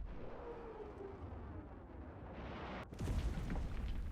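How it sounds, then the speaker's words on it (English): A rocket artillery strike in the Enlisted game lands as a deep, rumbling explosive impact late on, rising out of a steady low battlefield rumble, with no talk. "Let's check out the rocket artillery."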